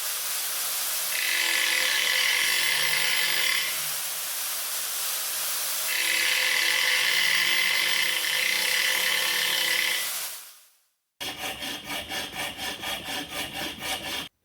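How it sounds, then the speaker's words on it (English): An angle grinder grinds flat sections onto a metal shaft in a loud, continuous abrasive whine. The whine comes in two long passes, then cuts out and gives way to a rapid, pulsing rhythmic grind. "I'm just going to attempt to do it with an angle grinder."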